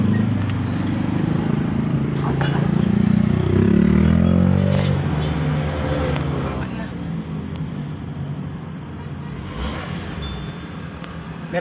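A 2024 Toyota Wigo's small engine, which has a check engine fault, cranks and catches, revving briefly before settling into a rough idle, with people talking over it.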